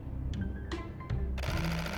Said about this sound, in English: Oh, I can hear the shutter noise. It still sounds so cool when you got the mirror going.